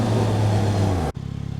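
Yamaha MT-09 SP motorcycle engine under way, a steady loud drone with strong low harmonics that cuts off abruptly near the end, leaving a quieter pulsing idle-like rumble.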